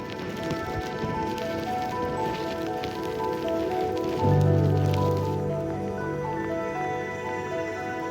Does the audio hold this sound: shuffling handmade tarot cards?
no